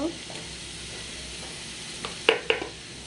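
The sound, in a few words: stirring gura fish frying in a pan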